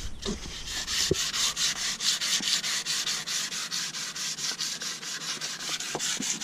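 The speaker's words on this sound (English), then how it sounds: "So Benny's back here sanding some shit that I messed up." Steady rhythmic sanding of paint off a car taillight part on a slammed Z-car project, a close, continuous back-and-forth rubbing scrape with faint knocks, no talking over it.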